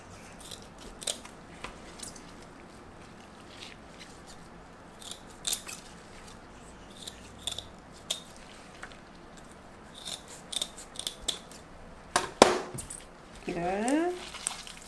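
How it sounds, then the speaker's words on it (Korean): Kitchen scissors snip the fins off a dried pollock, giving scattered sharp clicks and crunchy cuts spread across the stretch, with a louder cluster of snips near the end and quiet room noise between. "이렇게 잘라주세요. 가위로."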